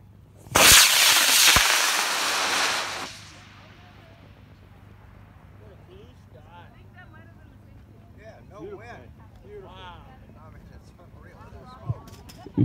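A high power model rocket, a Wildman Journey 75 on an H100-8W motor, ignites at an outdoor launch with a sudden loud roaring blast lasting about two and a half seconds, then fades as it climbs; distant voices and chatter follow.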